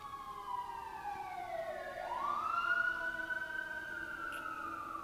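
An ambulance siren wails nearby, its tone dipping and then sweeping back up as it passes, loud and clear over a low background hum.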